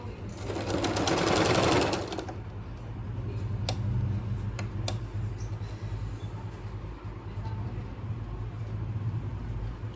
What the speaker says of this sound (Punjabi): ਵਾਈਪਿੰਗ ਲਾਉਣ ਲੱਗੀ ਆ